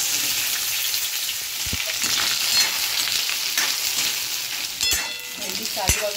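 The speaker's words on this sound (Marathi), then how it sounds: "आणि भेंडी चिरून घेतली ती टाकते, ती परतून घेणार आहे तेलात।" Chopped okra sizzles in hot oil in a wok, a loud, continuous crackling fry close up, with a few sharp utensil knocks and stirring scrapes near the end.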